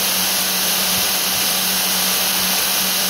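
A knife-making belt grinder runs at raised speed, a loud steady whine and hiss that holds evenly for the whole stretch, with a few faint knocks underneath.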